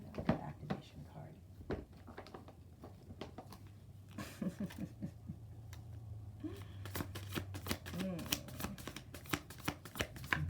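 Oracle cards are shuffled and drawn, with quick papery riffles and flicks in close bursts, under intermittent speech.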